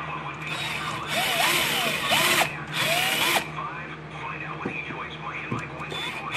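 A power tool drives a bolt into a bracket in a car wheel well on an AE86 project car, whirring in two or three short close bursts over a steady background hum with faint squeaks.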